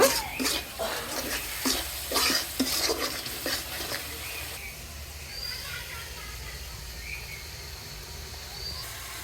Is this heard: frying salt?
yes